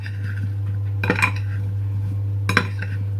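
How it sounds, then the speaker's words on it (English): Plum crumble ingredients with cinnamon are mixed in a buttered pie dish: two short bursts of clinking and scraping against the dish, close and moderately loud, over a steady low hum with no talking. "I'm going to mix them all up."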